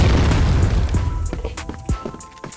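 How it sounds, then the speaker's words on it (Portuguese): Grenade explosion in a video game: a heavy boom with a burst of low rumble that decays over about a second, followed by scattered sharp pops and clicks from the game. "Granada!"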